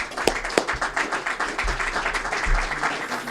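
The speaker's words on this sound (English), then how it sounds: "give you a round of applause for that" An audience at a CEO Club diplomatic evening breaks into steady applause, a dense patter of many hands clapping with a few louder claps early on, lasting throughout.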